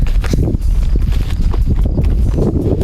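Horse hooves clip-clopping on a farm as a horse is readied for a trip to the field, a loud, continuous jumble of close hoof strikes and rustling noise with no clear talk.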